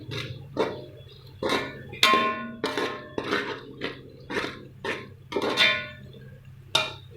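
Spices including turmeric, salt and ginger powder stirred into a cooking pot for mutton yakhni pulao: a close, steady series of metallic spoon clinks and scrapes against the pot, one every half second or so, over a low hum.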